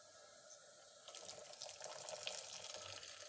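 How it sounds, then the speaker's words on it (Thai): Boiled water is poured into a cooking pot, a faint splashing trickle that starts after a quiet moment and continues unevenly to the end. "อันนี้ก็จะใส่น้ำต้มสุกนะคะเพื่อน"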